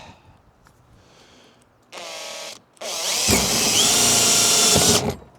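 A power drill whirs in two bursts, a short one then a longer, louder run of about two seconds, drilling holes up close into a bee bait box.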